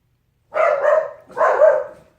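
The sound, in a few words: dogs barking at a cat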